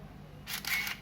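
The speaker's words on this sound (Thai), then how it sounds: "ถ้ามันโฟกัส โฟกัสได้ อืมเสียงชัตเตอร์ก็จะลั่น เวลากดเข้าไปเนี่ย" A Minolta a5000 SLR camera autofocuses and fires its shutter up close, a quiet whir followed by two quick mechanical clicks within a second.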